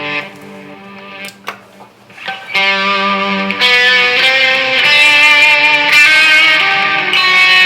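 A heavily distorted electric guitar rings out through a loop station, buzzing and saturated, swelling from scattered notes into a dense sustained roar.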